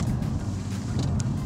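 HSV GEN-F GTS driving a slalom at constant throttle, giving a steady, continuous engine and road rumble with wind noise, loud and unbroken throughout.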